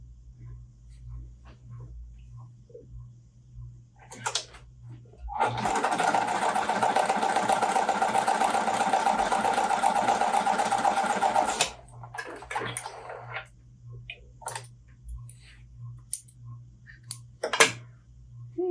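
A sewing machine stitching pieces of cotton fabric runs in one steady whirring burst of about six seconds, with a low background hum and a few small clicks and knocks before and after.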